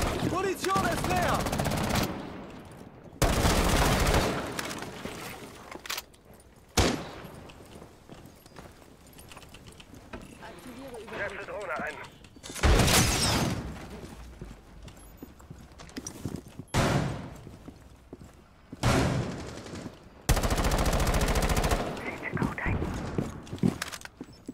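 Automatic gunfire in Rainbow Six, in several loud bursts separated by quieter stretches, with people talking during the match.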